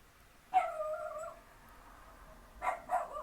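An agitated dog gives whining, yelping vocalizations indoors, one drawn-out whimpering cry followed after a pause by two shorter yips, fairly close and moderately loud.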